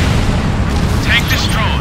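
A destroyed tank explodes in the combat flight game Ace Combat Infinity, a loud sustained rumbling boom that fills the whole moment, with radio-style voice chatter layered over it.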